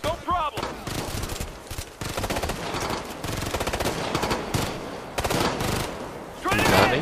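Rapid bursts of automatic gunfire in Tom Clancy's Ghost Recon, loud, clustered volleys of sharp shots separated by brief pauses, with a few voices briefly heard between the bursts.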